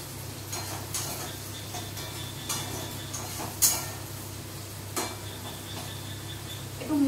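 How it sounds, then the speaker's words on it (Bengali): Chilli chicken sizzling in a pan as it is stirred, a moderate frying hiss punctuated by several sharp spoon clicks and scrapes against the pan. "এবার একবার আমি আরেকবার একটু নাড়াচাড়া করে নেবো"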